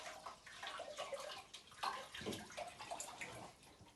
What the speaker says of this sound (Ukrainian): Молоко наливаємо в кастрюлю.